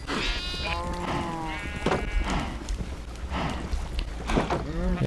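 Several Minecraft sheep bleat in the game, their wavering baas recurring every second or so over a steady background bed, clear and fairly close.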